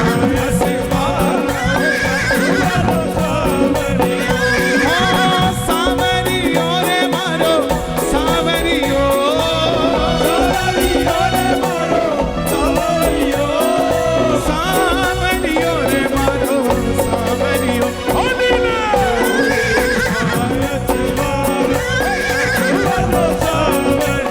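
A horse neighs and whinnies as a sound effect layered into a loud devotional Khatu Shyam bhajan, the whinnies recurring over continuous music and singing.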